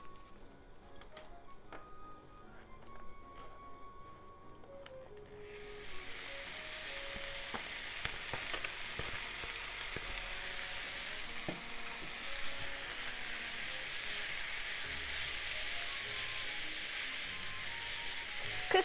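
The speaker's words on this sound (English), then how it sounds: "Heat up frying pan over medium to medium-high heat and let's cook the beef." Beef sizzles in a dry frying pan without oil over medium-high heat, a steady close hiss that starts after a few seconds of quieter clinks and stays loud and continuous to the end.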